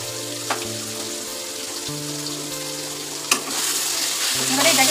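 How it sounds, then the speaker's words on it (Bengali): Spices with cumin, coriander and chili powder sizzle and fry in a pan, a steady crackling hiss with brief clinks of stirring, growing slightly louder toward the end. "এবারে এটাকে ভালো করে কষতে হবে।"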